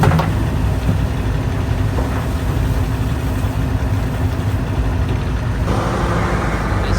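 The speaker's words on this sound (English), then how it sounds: "And dumping it into the dump truck to take down to my lower mine over there" A dump truck idles steadily at a Yukon gold mine while it is loaded with pay dirt, a continuous diesel rumble with faint clanks and a rise in engine noise near the end.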